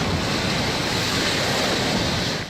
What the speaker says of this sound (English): sent frigid waters pouring over the seawall and into the streets.